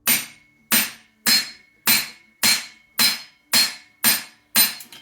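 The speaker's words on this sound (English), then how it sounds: "So we're just going to give this a shot with a hammer," A hammer strikes a manual impact driver on a bolt of a JAWA 350 motorcycle barn find under restoration, nine sharp metallic blows in an even rhythm with ringing decays, close and loud with no talking.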